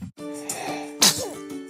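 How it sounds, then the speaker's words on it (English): A single short baby sneeze in a broadcast advert, sharp and close, set against a steady background music bed. "Baby sneezes are adorable once"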